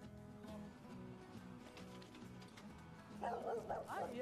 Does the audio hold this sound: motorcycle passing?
no